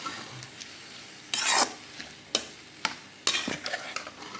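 A spoon stirring ponnanganni spinach stir-fry in a pan, with several scraping strokes against the pan, short and fairly close, over a faint background hiss.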